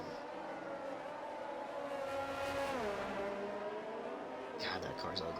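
A race car at speed in a sim racing game, a whining engine note that climbs, dips on a downshift and rises again, with other cars faintly audible behind it.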